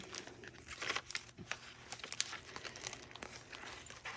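A plastic bag of small washi stickers handled up close, with irregular crinkling and rustling bursts throughout and no talking.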